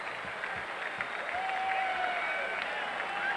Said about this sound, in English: the fans get some of the hand clapping going